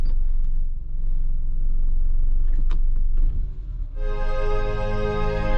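A 1988 Renault Super 5 engine rumbles steadily up close with low mechanical drone and a few clicks, then music starts playing over it from the car's stereo.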